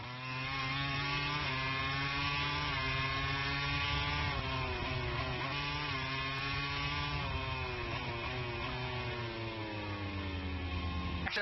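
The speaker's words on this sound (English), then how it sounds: "The Ducati launches out." A Ducati MotoGP racing motorcycle at the Japanese Grand Prix accelerates hard, its engine screaming upward through rising gear pitches. The loud, continuous roar is heard from close range, without talk.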